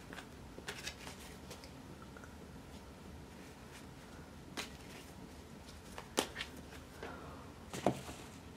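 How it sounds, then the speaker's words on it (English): Tarot cards are shuffled by hand in a quiet room, soft papery riffles and slaps coming in scattered bursts, faint and close, with no talking. "Just shuffling the cards."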